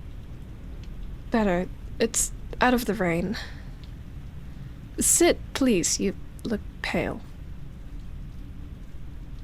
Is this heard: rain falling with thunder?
yes